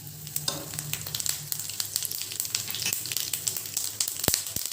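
Mustard seeds crackle and spit in hot oil with a busy run of sharp pops and sizzles, steady and close, with no voices.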